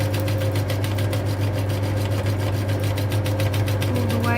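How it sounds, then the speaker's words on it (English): A sewing machine runs a short back stitch through fabric, a loud, rapid, even mechanical chatter over a low motor hum, close and continuous. "I'm just going to do a little back stitch on my machine"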